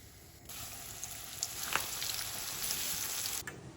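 Mutton chops frying in a pan, a steady hissing sizzle that swells in after a brief quiet start, with a few small spits and pops, close and moderately soft before cutting off near the end.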